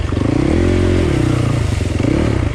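A motorcycle rides off along a riverbed, its engine loud and close, revving up and settling with a rapid throbbing pulse and no talking.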